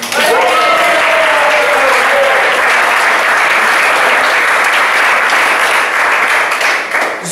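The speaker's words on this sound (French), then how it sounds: "mesdames et messieurs, sous vos applaudissements" Crowd at a live show in Réunion bursting into loud, sustained applause with cheering, a voice trailing off at the start before the clapping fills everything at full level.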